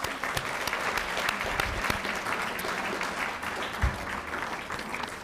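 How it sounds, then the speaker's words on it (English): An audience at the Twinsburg Chamber of Commerce 2024 scholarship awards gives the sponsors a round of applause, a full, steady roomful of clapping with a few sharper nearby claps and faint crowd murmur. "If we could please give them a round of applause."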